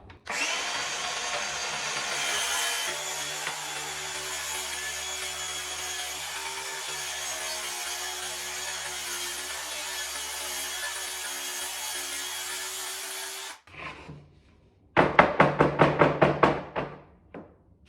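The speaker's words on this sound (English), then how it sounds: "I usually switch over to a circular saw. I just think it's a little bit faster and cleaner." A circular saw cutting a wooden window sill, a loud, sustained whining motor buzz under load for about thirteen seconds, then a brief pause before a burst of sharp rattling clatter, close up with no talking.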